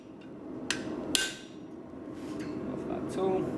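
A hammer strikes a chisel twice in quick succession, sharp metallic hits standing out close up over a steady background of low noise while slitting and splitting metal.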